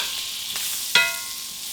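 Small onions cooking in melted butter in a pan, a soft continuous sizzle with one sharp clink of a utensil against the pan partway through, close and fairly quiet.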